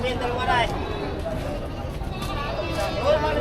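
Goats at a Philippine livestock market, with a few short bleats rising over busy crowd noise and people talking nearby.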